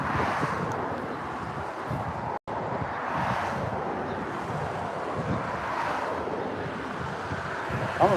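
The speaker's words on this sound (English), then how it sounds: "I'm afraid that wind might pick up a little too much at this point." Wind blows by a river during steelhead fishing, a continuous rough rushing noise buffeting the microphone with a short dropout near the start.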